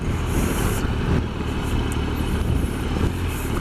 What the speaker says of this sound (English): And you can hear the revs.